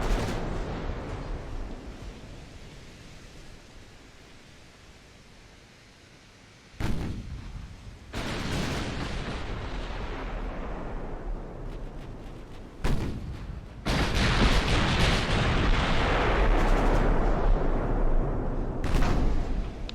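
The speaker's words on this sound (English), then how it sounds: "I have not landed a significant hit yet with my 18-inch guns." 18-inch naval guns fire in the warship game Ultimate Admiral: Dreadnoughts, loud heavy booms landing in several separate blasts over a long rumbling background, with no talk.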